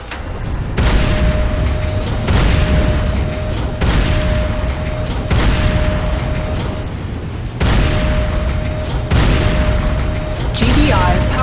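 Repeated heavy booms from buildings blowing up in the Renegade battle game, a series of loud explosions roughly every second or two over a dense rumbling battlefield bed, with a faint steady tone running beneath.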